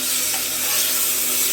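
Tomatoes with salt sizzle and fry alongside chicken in a pan for a non-veg lunch, a steady, dense crackle that holds close and loud throughout with no voices.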